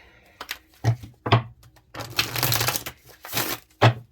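A brand new tarot deck being shuffled, loud close bursts of riffling and snapping cards in uneven bursts with a longer rustling shuffle in the middle, no talking.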